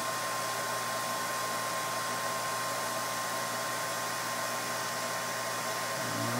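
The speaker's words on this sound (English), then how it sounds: "So you saw the vacuum pump." Vacuum pump on a manometer test setup running continuously, a steady broadband hiss with a constant hum, loud and unchanging throughout with no voices.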